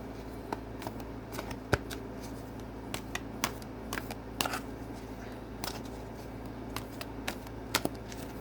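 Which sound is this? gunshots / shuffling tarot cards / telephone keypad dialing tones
shuffling tarot cards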